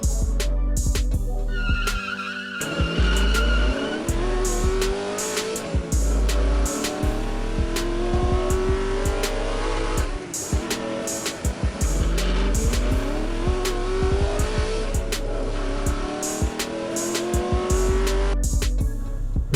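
Hot Wheels toy cars, a GMC Cyclone and a Mercedes-Benz A-Class, racing down a long drag track, giving a steady loud rolling rumble with rising whirring tones and repeated sharp clicks from track joints throughout.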